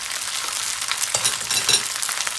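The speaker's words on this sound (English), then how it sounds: "Stirring rice, make sure that it doesn't burn." Rice being stirred in a hot pan with roasted cashews while cooking lemon rice, a steady sizzle broken by a few scraping stirs of the spoon, close and without voices.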